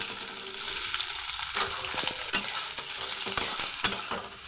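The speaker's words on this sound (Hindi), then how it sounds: "हाई फ्लेम रे ही भाजी नवा आमे सोयाबीन की" Soybeans fry in hot refined oil on a high flame, a loud, close, steady sizzle broken by repeated spatula scrapes and clicks against the pan, with no talking.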